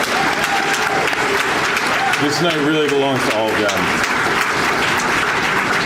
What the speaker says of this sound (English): I would like to ask for one final round of applause for Danielle and all of the wonderful scholarship winners.